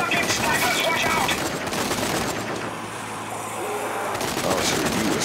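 Dense, continuous gunfire and explosions roar through a firefight in the shooter game Zombie Army 4: Dead War, loud and unbroken throughout with a hint of voices mixed into the din.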